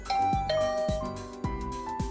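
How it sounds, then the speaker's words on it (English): A video game doorbell chimes with a series of bright ding-dong tones, several struck notes ringing out in quick succession and decaying, heard alone without talk. "I rang the doorbell."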